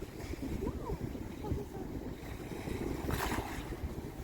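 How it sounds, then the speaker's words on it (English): A small boat-like trash-collecting device glides quickly over the water near a public beach in Monaco, a faint, steady low rumble blended with gentle lapping water and light wind. "A small, boat-like device that glides pretty quickly over the water"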